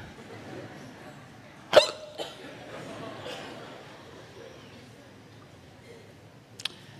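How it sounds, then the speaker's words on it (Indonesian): A man preaching hiccups several times, sharp isolated hiccups standing out over a quiet, low-level background, with one strong hiccup early and another near the end. "Rasanya baru kali ini dakwah sambil cegukan."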